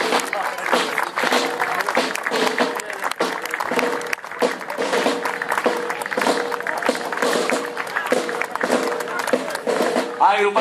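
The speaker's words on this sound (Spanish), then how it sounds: "también les damos el aplauso, por supuesto, ante el paso de nosotros" Applause from a street audience for dancers passing in a city anniversary parade, continuous crowd clapping throughout with steady energy, mixed with background voices and a busy outdoor ambience.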